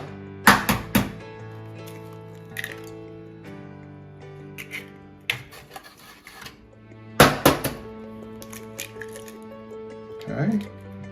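Two eggs are cracked into a bowl for French toast batter, giving sharp close taps and cracks followed by wet squishing and dripping, with a person talking in between.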